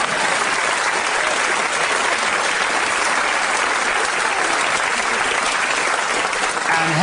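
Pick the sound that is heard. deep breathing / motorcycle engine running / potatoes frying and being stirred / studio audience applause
studio audience applause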